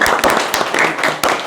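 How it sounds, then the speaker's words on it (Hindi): A crowd at a blood donation camp claps loudly and continuously, a dense, close burst of many hands throughout with sharper individual claps standing out. "एक बार जोरदार ताली बजा दें आप"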